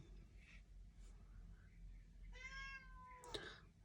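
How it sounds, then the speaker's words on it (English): A cat gives one clear drawn-out meow, close and fairly quiet, with a shorter sharp sound right after, over a low steady room hum and faint soft noises before. "Is my cat wanting attention?"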